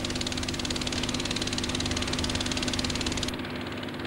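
Sand patters rapidly on top of a membrane vibrating at low frequency, making a dense, steady buzzing rattle with a low hum underneath that thins out near the end.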